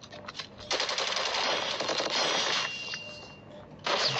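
Rapid automatic gunfire from a Call of Duty match at a college eSports contest, dense sustained bursts filling most of the stretch with a short lull before another loud burst near the end, no talk over it.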